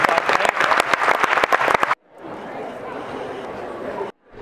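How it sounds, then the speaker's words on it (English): Loud, close clapping from an audience, with dense sharp hand claps, then an abrupt cut to a softer, more distant wash of crowd applause and murmuring that ends suddenly. "round of applause for the amazing work we just got today"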